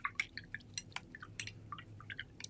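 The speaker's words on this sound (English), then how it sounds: "Rinsing that brush again." A paint brush is swished and tapped in a water jar, giving a quick run of small light splashes and drips, close and fairly quiet, with no talking.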